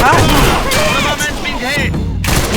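Gunfire from the online shooter game A.V.A. cracks in loud, close shots and bursts, mixed with in-game effects and excited voices talking over the action.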